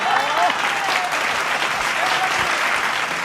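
A crowd at a comedic poetry recitation breaks into sustained, loud clapping that carries evenly from start to finish, with a voice faintly audible underneath.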